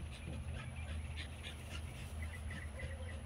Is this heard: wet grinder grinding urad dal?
no